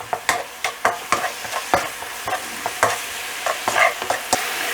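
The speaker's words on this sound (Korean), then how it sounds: "돼지고기도 곱게 썰은 거, 가른 거 정도 되는 거를 간장 한 스푼이랑 황설탕 한 스푼을 넣고 빠르게 볶아주세요" Minced pork stir-frying in a pan with soy sauce and brown sugar, a steady sizzle broken by sharp clicks and scrapes of a spatula tossing the meat at a brisk, irregular pace, close up with no talk.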